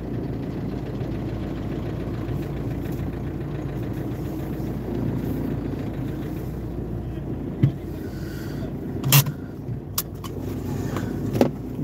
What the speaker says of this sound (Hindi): गाड़ी में डीजल भरने आया हूँ